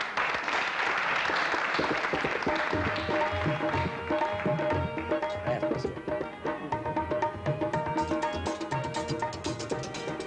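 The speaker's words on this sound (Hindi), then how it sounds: "बहुत सारी तालियां।" A 1984 PTV television studio audience applauds guests walking on stage, sustained and fairly loud, with music joining partway through.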